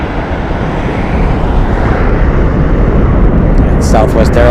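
An airliner takes off at Las Vegas airport with a loud, broad roar of jet engines that swells slightly. A voice comes in over the rumble near the end.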